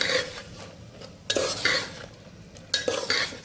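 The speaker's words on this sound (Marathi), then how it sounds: "तुरीचे दाणे टाकलेले आहेत त्यालाही आपण व्यवस्थित परतवून घेऊया" Pigeon peas stir-fried in a pan for masala rice, a spatula scraping and clinking against the metal in several strokes over a soft sizzle.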